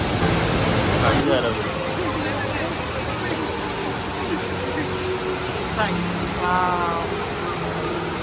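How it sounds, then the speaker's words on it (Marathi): An indoor waterfall inside a Singapore airport falls with a soft, steady rush, under a murmur of crowd chatter and scattered voices. "पाऊस पडतो पाणी पडते खाली"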